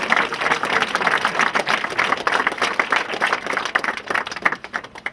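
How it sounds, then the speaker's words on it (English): Applause from the crowd at a Desmond Cup Final presentation between Broadford United and Glin Rovers, steady dense clapping from many hands that carries on for several seconds and thins slightly toward the end. "So get a round of applause for all our sponsors."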